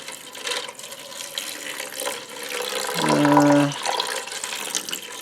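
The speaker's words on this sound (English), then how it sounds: "I'm just going to pour some water in it" Running water pours steadily from a tap, with a brief hollow filling tone partway through as the stream deepens in a vessel.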